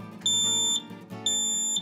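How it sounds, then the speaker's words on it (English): A carbon monoxide or smoke alarm sounds two loud, shrill beeps, each about half a second long and a second apart, close by and alone. "It's an alarm that will alert you if carbon monoxide levels are getting dangerous in your home"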